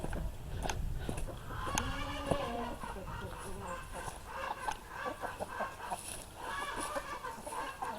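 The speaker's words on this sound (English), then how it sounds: "I hear an awful lot of commotion over here in the chicken house." Chickens cluck and squawk continuously in a crowded chicken house, a steady noisy commotion with overlapping calls close by.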